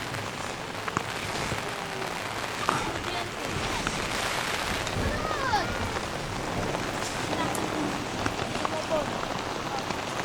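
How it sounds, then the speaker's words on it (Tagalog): Heavy rain drums steadily and densely on a tent close by, a constant loud patter with faint voices beneath it, at a campsite in Zambales. "Okay lang yung ulan, wag lang sana humangin ng malakas."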